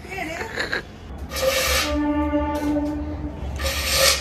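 A train horn blows a loud, sustained tonal blast lasting over a second in the middle, cutting through a noisy household background during a Saraswati Puja gathering.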